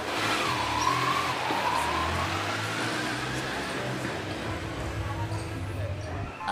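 A motorbike engine revs and accelerates steadily after a cold start, its continuous drone holding close and loud, with a rising whine drifting in early and a faint voice sitting underneath.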